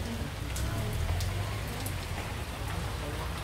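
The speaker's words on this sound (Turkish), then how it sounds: "Masamıza da yağmur gelmiş." Rain falls steadily onto an outdoor restaurant table at a fish restaurant, a dense, even hiss of drops with a few sharper patters, close and continuous throughout.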